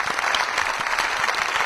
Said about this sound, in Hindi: जोरदार तालियां सभी के लिए